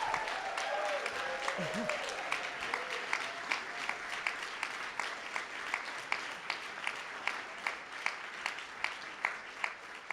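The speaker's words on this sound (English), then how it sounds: "Yeah, you guys can clap now." An audience at an awards ceremony applauds the standing nominees, sustained dense clapping that holds steady and then thins toward sharper, more separate claps near the end, with a voice briefly audible early on.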